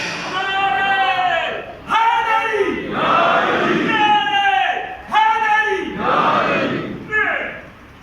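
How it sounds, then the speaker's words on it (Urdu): A crowd at a religious gathering with a cleric loudly shouts the slogan Nara-e-Haidari in repeated call-and-response bursts, a leader's voice followed by massed voices answering in waves. "تالیوں سے بہتر ہے نعرہ حیدری لگائے۔"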